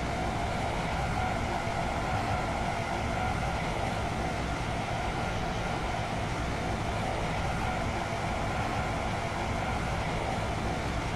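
Steady, continuous rumble of a Stepford Connect train running in the Roblox game, a constant broadband hum and rail noise with no talk over it.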